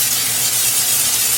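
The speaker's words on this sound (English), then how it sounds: "So we're just going to spray it." Cooking spray hisses onto microwaved stir-fry vegetables in a pan, a steady, close airy spray lasting the whole moment with no talk.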